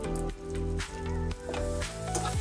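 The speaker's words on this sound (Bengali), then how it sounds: "তেজপাতা আর দারচিনি একটু ভেজে এবার দিয়ে দিব বাদাম কুচি, দিব কিশমিশ," Chopped nuts and raisins frying in a pan with bay leaf and cinnamon for jorda semai, a continuous close sizzle and crackle with soft stirring scrapes, no talking.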